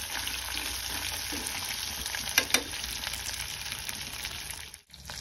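One large chopped onion sautés in a pan, producing a continuous close sizzle with a couple of sharp utensil clinks partway through and a brief drop near the end.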